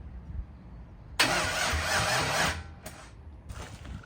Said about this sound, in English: Yeah, it's just backfiring.